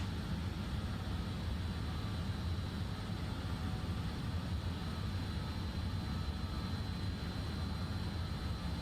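BAe146 jet engines at reduced thrust in the Microsoft Flight Simulator video game make a steady, broad engine drone that holds even throughout, with no voices.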